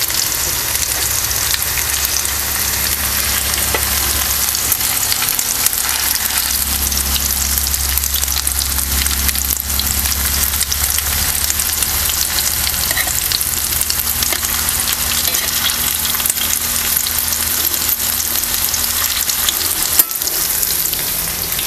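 A potato and gram flour snack shallow frying in oil, crisp on the outside, giving a dense, continuous crackling sizzle that stays loud and close for the whole stretch, with no voices.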